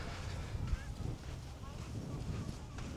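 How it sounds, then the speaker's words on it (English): Steady low rumbling wind buffets the microphone outdoors on a beach at Skegness, with gusts swelling and fading throughout and faint distant honking sounds. "It's quite windy on the beach."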